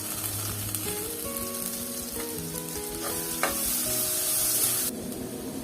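Onions and curry leaves fry steadily in a pan for a tapioca beef biryani, giving a continuous close sizzle with light stirring and scraping clatter throughout, and no voices.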